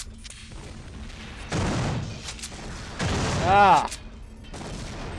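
Shotgun blasts boom from the video game System Shock 2, two heavy bursts about a second and a half apart over low background noise. A player's voice lets out a short exclamation near the second blast.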